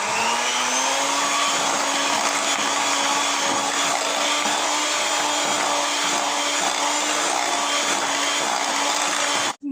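Electric hand mixer beating cheesecake batter in a bowl, a loud, steady motor whine with a constant pitch running unbroken for the whole stretch before cutting off abruptly at the end.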